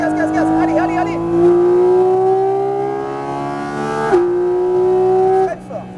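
A Porsche GT4 RS accelerates hard on a race track, its engine note climbing steadily in a loud, close, sustained wail. A brief dip comes at a gear change, then the pitch rises again.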